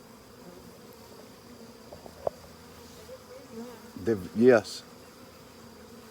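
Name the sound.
swarm of honeybees at a hive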